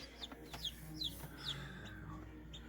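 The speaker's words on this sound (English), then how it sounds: "chickies that you see in there trying to run around are pipping and chirping" Newly hatched chicks in an egg incubator give high, thin chirps and peeps at a rhythmic pace, fairly faint over a low machine hum.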